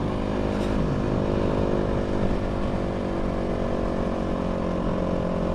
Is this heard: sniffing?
no